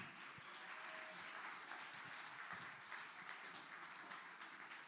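Audience applause for a singer at a benefit concert, a sustained, even roar of many hands clapping at moderate distance, with no talk over it.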